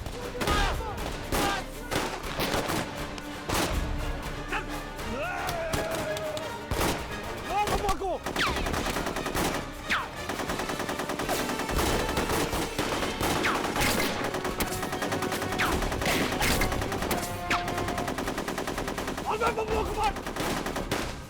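Rapid volleys of gunfire laid down as cover fire in a Hindi TV drama shootout, dense crackling shots running throughout with brief shouted voices underneath.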